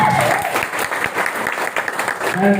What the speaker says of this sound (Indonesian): Tepuk tangan untuk PTBS.